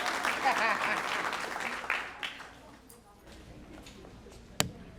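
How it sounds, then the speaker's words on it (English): An audience at a Hispanic Heritage Month celebration claps in moderate applause that fades over a few seconds, ending with a single sharp knock. "give Legislator Bino a big round of applause"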